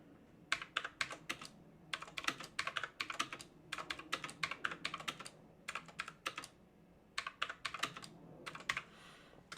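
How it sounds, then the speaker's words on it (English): Quick bursts of keyboard typing, keys clattering in short runs with brief pauses between them, close and fairly quiet. "that was a little bit of typing"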